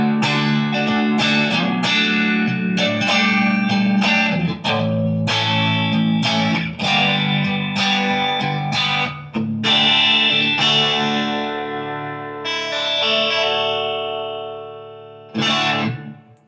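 A Jet JS480 electric guitar runs through effects with distortion and chorus, strumming a loud series of ringing chords that sustain and fade away, then one last strum near the end.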